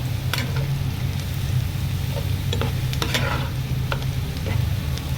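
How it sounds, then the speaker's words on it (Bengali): Onions frying slowly into beresta in a pan, a steady close sizzle with intermittent clicks and scrapes of stirring, no voices. "আস্তে আস্তে ধৈর্য ধরে পেঁয়াজগুলোকে বেরেস্তা করে নিতেছি।"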